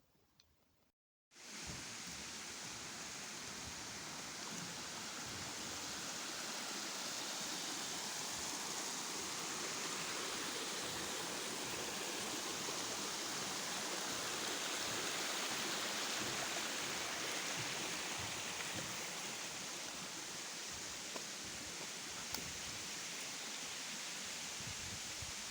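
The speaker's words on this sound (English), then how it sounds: "Yeah, that's the waterfall." A waterfall seen from a hiking bridge pours as a steady, loud broadband rush that holds for the whole stretch after a brief quiet start, with no voices on top.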